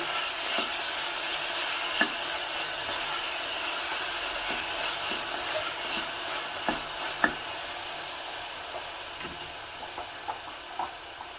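Chopped tomato and onion frying in a pan for baingan bharta, a steady soft sizzle close by, broken by scattered light clicks and scrapes of stirring.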